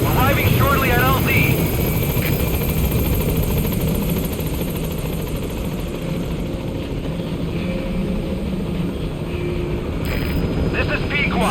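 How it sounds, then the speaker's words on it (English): Support helicopter arriving at a landing zone in the video game Metal Gear Solid V, a steady loud rotor and engine drone filling the scene throughout, with game voices speaking over it. "Support helicopter has arrived."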